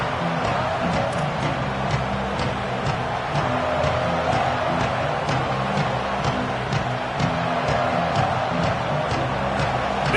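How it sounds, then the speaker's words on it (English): Steady, dense roar of a large stadium crowd at a college football game between Washington and Oklahoma, a continuous wash of voices and noise holding at constant loudness throughout. "This crowd trying to make life miserable for this offense."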